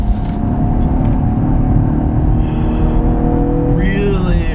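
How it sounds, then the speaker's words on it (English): A 2016 Cadillac ATS-V Coupe on a race track, its engine giving a deep, steady bellow close by, with a rising tone near the end as it pulls hard. "on track, the engine's got a great bellow. It sounds really, really nice."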